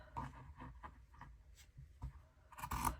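A pencil or marker traces around the outside of a Dollar Tree bunny wreath form onto a surface, making soft, intermittent scratchy strokes in short bursts, close and quiet, with a louder rubbing stretch near the end.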